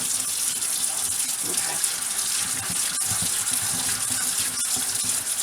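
Hot tap water gushes steadily over an 8-quart cast iron boiling pot being washed with soap, a loud continuous splashing hiss with faint scrubbing knocks, and a voice speaks briefly.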